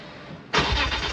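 A BMW M3 E46 running on ethanol fires up after quiet, its starter catching into a loud, steady engine roar that holds close by with a slight surge at the end.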